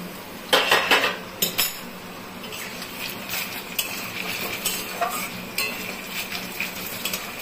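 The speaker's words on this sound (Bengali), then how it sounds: "আমি এমনি নুন দিয়ে হলুদ দিয়ে ভাজছি" Taro (gathi kochu) fries in a pan with salt and turmeric: a steady close sizzle with repeated sharp metallic scrapes and clinks of a spatula stirring against the pan, no voices.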